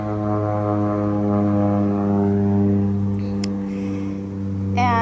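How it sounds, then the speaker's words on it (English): A small propeller plane drones overhead above a garden, a steady harmonic engine hum holding for several seconds, fairly loud and unbroken, with a brief faint chirp near the end. "plane going by."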